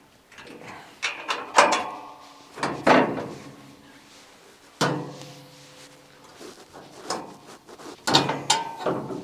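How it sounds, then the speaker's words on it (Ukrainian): A series of metallic clanks, latches and creaking thuds as the rear tailgate of an Odes 1000cc six-seat UTV buggy is unlatched and swung open, with sharp knocks in irregular bursts. "Відкривається задній борт."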